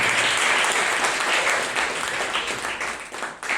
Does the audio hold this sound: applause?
yes